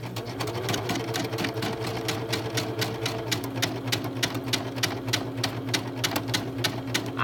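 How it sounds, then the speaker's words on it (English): A Simplicity SE3 embroidery machine stitching at a steady fast rhythm, a continuous motor hum with rapid mechanical needle clatter, close and fairly loud, running alone without talk. "I'm gonna press the start button and it will actually start to embroider."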